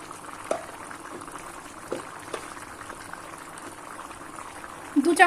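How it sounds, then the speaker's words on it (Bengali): Dhokar dalna, a Bengali lentil-cake curry, simmering in a pan: soft, faint bubbling with occasional small pops, steady throughout. "ভালো করে ফুটে উঠলে দিয়ে দেব ঘি।"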